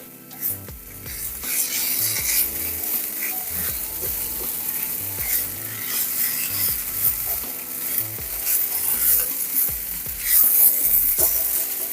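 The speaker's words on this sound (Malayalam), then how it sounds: "തേങ്ങ ഒന്ന് ചൂടായി വരുന്നത് വരെ ഒന്ന് ഇളക്കി കൊടുത്താൽ മതി" Grated coconut is stirred steadily in a hot pan, with a continuous scraping and rustling layered over a soft sizzle. The sound stays close and fairly loud and even throughout, and no one speaks.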